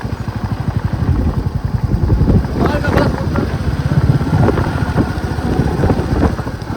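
A motorcycle engine putters steadily with a rhythmic low thumping while riding through Champawat district, Uttarakhand, with some clatter and a voice talking over it.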